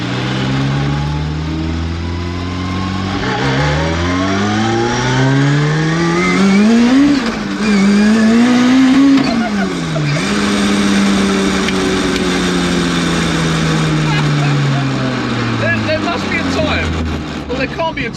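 An 800 bhp Mk2 Ford Escort with a Honda S2000 engine and sequential gearbox revs hard and accelerates up through the gears, loud and close, its engine note climbing and dropping with each shift.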